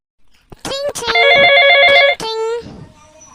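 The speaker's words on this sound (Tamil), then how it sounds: "என்ன ஃபோன் அடிக்குது யாரும் தெரியலையே" An old-style telephone bell rings loudly in a short burst of rapid trilling rings, near and dominant, with brief speech-like sounds around it in a Tamil comedy sketch.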